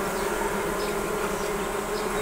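Honey bees buzz steadily around a queen cage, a close, continuous droning hum with no voices over it.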